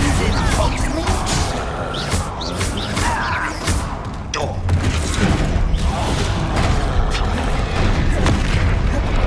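Heavy fiery blasts from the Confringo spell erupt repeatedly in Hogwarts Legacy, booming and crashing in dense succession over loud, continuous game combat noise.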